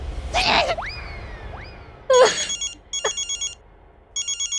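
A telephone rings in short repeated electronic bursts, with a couple of rising boing-like tones and a brief sneeze-like burst before the rings.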